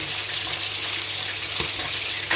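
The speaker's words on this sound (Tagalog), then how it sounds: "Lagay natin ang ating sibuyas. Gisa lang natin yan." Onions sautéing with curry leaves in a pan for chicken biryani, a steady close sizzle and hiss that runs unbroken throughout, with one soft clatter near the end.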